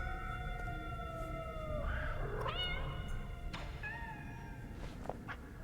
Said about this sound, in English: Meow? Actual cats?